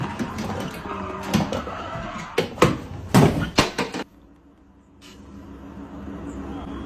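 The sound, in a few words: car crash in a sim racing video game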